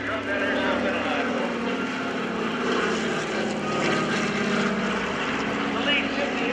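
A C-47 Skytrain (DC-3) twin-engine propeller aircraft making a low airshow pass, its steady loud radial engine drone and propeller roar filling the air while an announcer talks over it.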